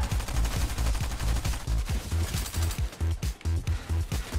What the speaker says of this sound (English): I have a great pistol.